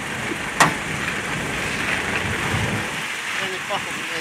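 Heavy downpour pours steadily over an outdoor car market in Baku, a loud continuous hiss with a sharp crack of thunder early on and a fainter rumble near the end.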